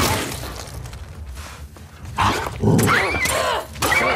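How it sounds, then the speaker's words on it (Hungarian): A dog in The Last of Us Part II growls and barks amid game noise, with bursts of harsh, loud activity in the second half and a brief crash-like sound. "Már meg azt a hülye kutyát."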